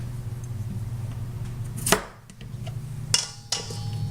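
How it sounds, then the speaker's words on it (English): A knife cuts through redskin potatoes on a board, giving a couple of sharp, close chopping strikes over a steady low background hum. "You cut your potatoes, put them right in the mix."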